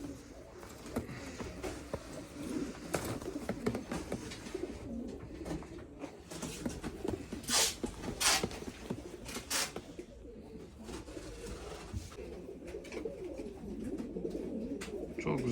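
Pigeons, including Rakkas, curly and German breeds, coo steadily in a loft with overlapping calls and rustling wings, while a faint voice speaks in the background.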